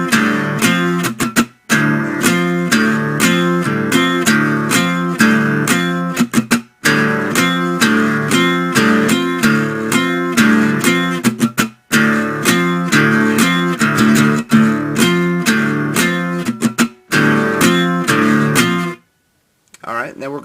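Guitar plays the bridge of a song, loud and close, with repeated chugging phrases built on open notes and fretted 8-10 figures, broken by brief pauses before ringing out and stopping near the end.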